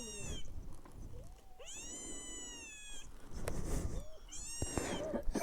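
A cat in a village household gives several drawn-out meows in a row, loud and near, with small rustles between the cries.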